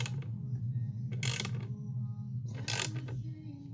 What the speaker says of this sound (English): tool's pushing down on the crank, pushing it out